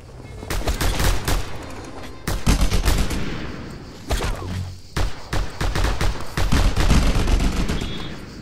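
Heavy bursts of gunfire from Just Cause 2, dense fusillades of overlapping shots and rattling automatic fire with loud booming impacts, continuous across the scene with brief gaps and no talking.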